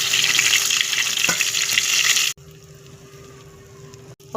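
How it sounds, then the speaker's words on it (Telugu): Onion samosas sizzle and bubble steadily in hot oil in a pan, a loud continuous frying hiss that drops abruptly quieter partway through before resuming. "ఆయిల్ వేడైన తర్వాత సమోసా వేసుకోవాలండి."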